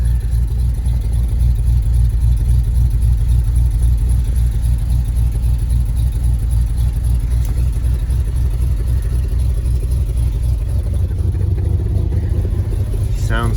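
A 1971 Ford F250 Highboy with an FE V8 idles fast on a cold start with its manual choke, a steady low rumble with a ticking exhaust leak, close and constant throughout.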